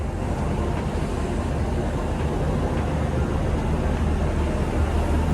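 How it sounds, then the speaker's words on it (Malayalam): A train stands at a station during snowfall on the Banihal to Srinagar line in the Kashmir Valley, giving a steady, loud, low rumble that continues without break and without voices. "ഇതാണ് നമുക്ക് പോകാനുള്ള ട്രെയിൻ."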